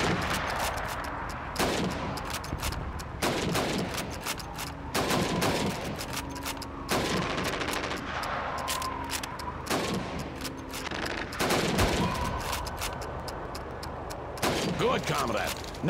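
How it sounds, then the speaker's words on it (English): Rifle shots ring out in quick succession at a Call of Duty 2 training range as helmets are targeted, sharp cracks repeating every second or so over a steady game-ambience bed, with faint voice audio mixed in. "You have 15 seconds to shoot the helmets."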